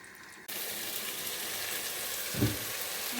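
Garlic, ground ginger and cinnamon spices sizzle in hot frying oil for a lasagna sauce: a steady, bright crackling hiss that starts abruptly and keeps going, with one brief soft thump near the end and no talking.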